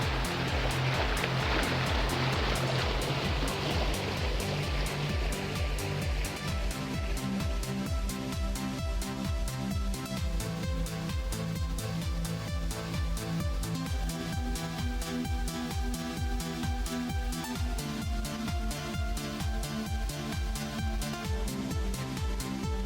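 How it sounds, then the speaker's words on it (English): Steady rushing water roars continuously throughout, a dense broadband wash with a rhythmic pulsing texture, loud and close. "Starts at a waterfall."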